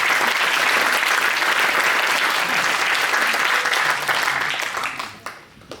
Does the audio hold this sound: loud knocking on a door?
no